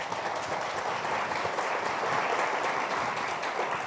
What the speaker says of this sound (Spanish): Recibámoslo con un gran aplauso